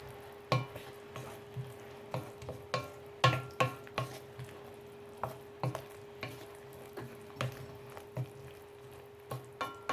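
Chicken Alfredo sauce being stirred in a pan: repeated scraping strokes of a utensil against the pan, roughly two per second, over a soft, steady sizzle and a faint constant hum.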